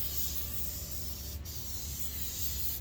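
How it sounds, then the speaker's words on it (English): A spray paint can lays another coat onto a 3D print, producing a steady, close, continuous hiss for about three seconds, with no talking. "I'm going to go ahead and spray another coat"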